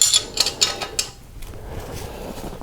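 An Allen wrench tightens a nut beside the cylinder pushrod tubes on a 1983 BMW R100RS, giving a few close, sharp metallic ratcheting clicks at first, then quieter scraping handling, no talk.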